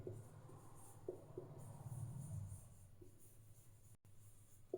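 Marker or chalk writing on a classroom board during a physics lesson, a soft continuous scratching with short strokes, fairly quiet against room hum, with no talking.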